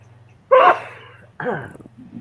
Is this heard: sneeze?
yes